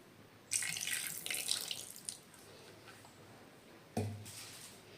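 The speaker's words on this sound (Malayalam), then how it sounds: "കുറച്ച് പുളിവെള്ളം ചേർക്കുന്നുണ്ട് കേട്ടോ" Tamarind water is poured into a Kerala sole fish curry in a soft splashing stream for about a second and a half, and a second short pour follows a moment later, both fairly faint.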